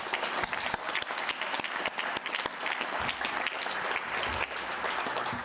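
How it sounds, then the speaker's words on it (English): An audience at the World Boxing inaugural congress applauds: steady, dense clapping from a sizeable crowd, sustained and even for several seconds with no voices over it. "So please give them a big round of applause."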